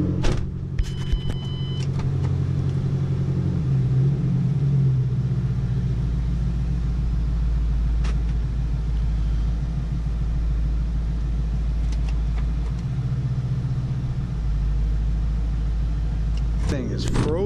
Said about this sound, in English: engine just sounds so cold.